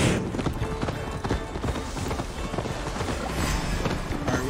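Horse hooves gallop in Assassin's Creed Valhalla, a rapid, steady clip-clop racing along at close range with game ambience behind it.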